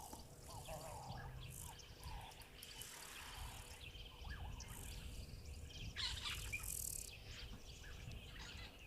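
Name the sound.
black-headed oriole and black-crowned tchagra calls in nature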